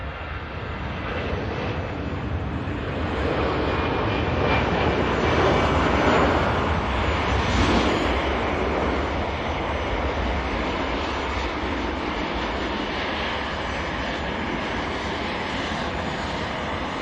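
An EasyJet airliner climbs away from Manchester bound for Bilbao, its engines a steady, powerful roar that builds early, peaks midway and holds as a continuous broad rush.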